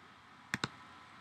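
Two quick, crisp mouse clicks close together, near and clear over a quiet background, while a Facebook post is scheduled.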